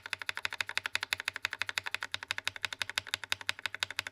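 Lubed Akko mechanical keyboard switches typed in a steady, fast stream of crisp, muted clacks, close and quiet, with no talk.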